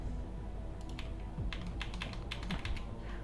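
Keys clatter on a computer keyboard in short irregular bursts of clicks, close and fairly quiet over a low background hum.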